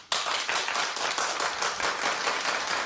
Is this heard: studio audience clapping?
yes